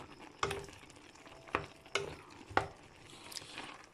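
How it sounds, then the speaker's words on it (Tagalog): A pot of vegetable stew with melted bouillon cubes is stirred quietly, a soft simmer broken by four distinct spoon knocks and scrapes against the pot. "Kay, ayan, haluin natin para mag lasa siya."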